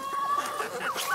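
Americana hen in a homestead coop, clucking softly and repeatedly at close range over a faint background hum.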